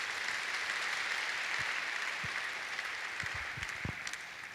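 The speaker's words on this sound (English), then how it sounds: "I think our president deserves another round of applause." Applause for the president at a medical college convocation ceremony, a continuous crowd clapping that stays steady then thins slightly, with a few thumps and louder claps near the end.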